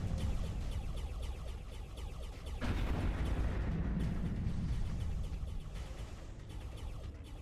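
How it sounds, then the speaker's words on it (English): Missile volleys fired at a carrier in a Starpoint Gemini: Warlords space battle, a continuous dense roar of launches and blasts, loud with a surge midway, no talking. "Missiles."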